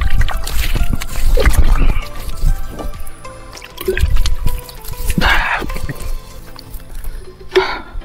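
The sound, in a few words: washing face with stream water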